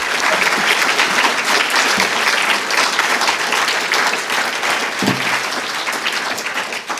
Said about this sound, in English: give everyone a round of applause for that amazing work